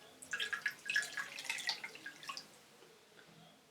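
Water drips and splashes as a Face Halo makeup-removing pad is rinsed in a sink, a few light, close trickling bursts that fade into quiet.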